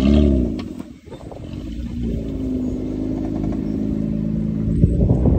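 A Hyundai car's engine runs steadily while driving, a close, loud, even hum with a brief dip and recovery near the start and no talking over it.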